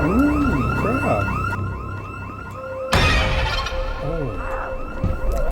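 A car alarm in Project Zomboid blares in a repeating warbling pattern, loud and continuous, with a brief exclamation and a sudden bang partway through.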